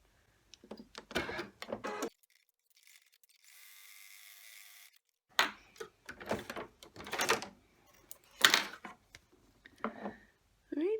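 An embroidery machine runs a placement stitch for the appliqué on an in-the-hoop heart coaster in a 4x4 hoop, giving a steady mechanical whir of about a second and a half between stretches of a person talking.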